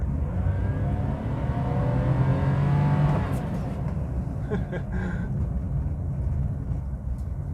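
A Toyota Wigo hatchback on a road in the Philippines accelerates at full throttle, its small engine droning loudly and rising in pitch before settling into a steady cruising roar, heard from inside the cabin.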